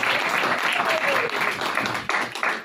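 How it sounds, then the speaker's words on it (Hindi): A church congregation claps for a young woman named Sonia, a broad, fairly even burst of applause from many hands that dips briefly before resuming. "पहले तो मैं चाहूंगा कि बेटी सोनिया के लिए तालियां बजाएं"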